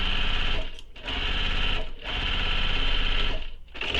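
A sewing machine stitches the bottom panel of a handbag in close, loud bursts of rapid whirring, pausing briefly three times between runs.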